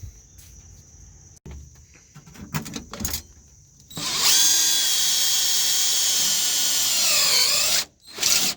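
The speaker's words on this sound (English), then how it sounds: "So now I just gotta get this other hole drilled out" A power drill boring a hole for a battery mount on a Plymouth, a loud high whirring burst of about four seconds that winds down, preceded by quieter handling clanks and followed by a brief restart.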